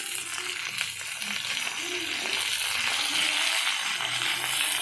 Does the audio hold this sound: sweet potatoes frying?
yes